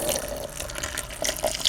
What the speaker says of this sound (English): just put them in a bowl and pour a cup of boiling water over them